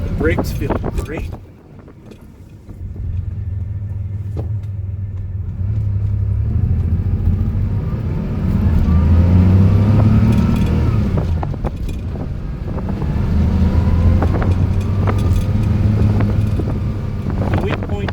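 A 1982 Porsche 911SC with 400,000 miles drives on the road, its engine rumbling steadily and swelling under wind and road noise, with a person talking over it.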